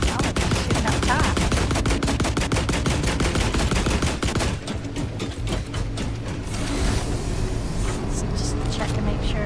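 Rapid automatic gunfire in The Last Caretaker rattles loudly for several seconds, then gives way to a lower rumbling din with scattered sharper hits. Talk runs over it.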